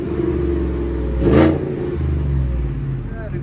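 A supercharged Ford F-150 with a 5.0L V8 and Borla exhaust blips its throttle once in a sharp, loud rev that quickly drops back to a low, burbling idle, with a voice audible beneath.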